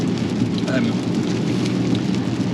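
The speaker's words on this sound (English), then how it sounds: "It's raining even more now" Steady rain falls in a dense, continuous hiss, heard from inside a car with a low rumble underneath, loud and unbroken throughout.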